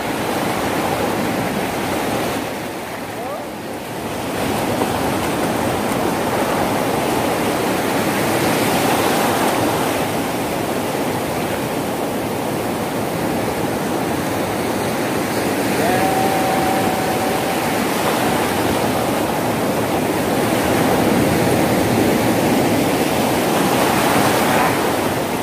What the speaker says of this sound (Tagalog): Enjoy lang natin yung dagat.